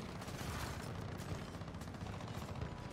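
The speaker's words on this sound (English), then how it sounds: "They're just shooting at me." Dense, rapid gunfire from a multiplayer shooter video game rattles continuously and loudly, sounding like sustained automatic weapons fire with no pauses.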